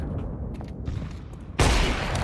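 Single loud gunshot blast bursting in after a stretch of quieter in-game ambience and low rumble, a wallbang fired through a wall in the video game Counter-Strike.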